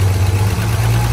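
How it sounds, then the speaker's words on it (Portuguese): Aspirated street-configured Chevrolet Opala engine idling, a loud, steady deep rumble with a pronounced low throb, close to the car and alone. "Bora ver o barulho do carro aí, galera."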